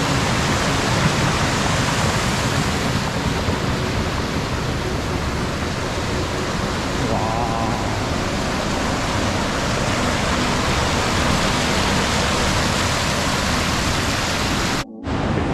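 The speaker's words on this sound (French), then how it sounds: "une jolie rivière." A pretty river along a hiking trail near Aumessas, toward the Col de Mouzoules with its cascades, rushes loudly and steadily throughout, then cuts out briefly near the end.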